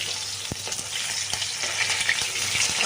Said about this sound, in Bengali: এইভাবেই মাছগুলোকে সব মাছগুলোকে এইভাবেই ভেজে ভেজে নেব